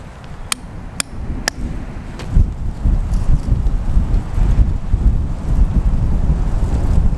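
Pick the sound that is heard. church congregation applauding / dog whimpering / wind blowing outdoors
wind blowing outdoors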